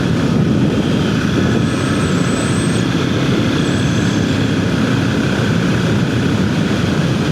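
A Ducati Monster 1100 motorcycle ridden at night, its engine droning steadily with wind rush, a continuous loud rumble and faint whistling tones above.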